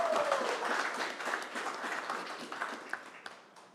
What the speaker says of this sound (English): I think that deserves a regional round of applause.